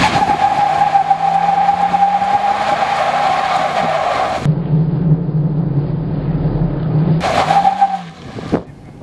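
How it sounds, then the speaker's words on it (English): A 2016 Ram 1500 R/T sport pickup truck does a burnout: a loud, sustained engine roar with screeching tire squeal. It drops to a lower rumble, then flares up again briefly before cutting off. "we tested the most important feature of any sport truck, the burnout."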